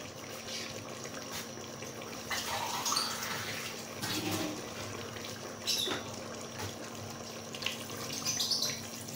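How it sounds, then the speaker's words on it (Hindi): A glass of water splashes and pours into a pot of Peshawari namkeen gosht in a steady stream, with brief clinks and sloshing over a constant background hum. "अब मैं इसके अंदर 1 गिलास पानी डाल दूंगी।"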